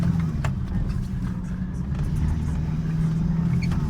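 Truck driving through a snow storm, a steady low engine drone and road rumble heard from inside the cab, with faint clicks and knocks over it.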